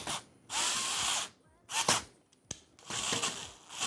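A power screwdriver drives screws into a white Lian Li O11 EVO PC case during a gaming PC build, giving several close, loud whirring bursts separated by short pauses and light clicks.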